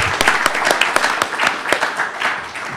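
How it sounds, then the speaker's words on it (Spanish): A seminar audience applauds, a dense, close burst of many hands clapping that stays steady for a few seconds. "pues sí, merecemos un aplauso"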